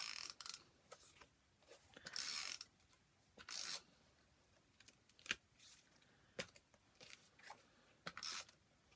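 A tape runner rolls adhesive onto card stock in short bursts, giving off crisp, close clicking and scratching sounds separated by quiet pauses.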